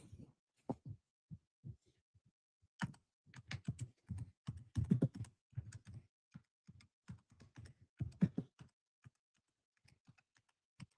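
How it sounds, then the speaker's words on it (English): Slow hunt-and-peck typing on a computer keyboard: sparse, irregular key taps with pauses between them that occasionally bunch into short flurries, close and quiet, with no talking. "I'm a little slow. I'm a peck typer."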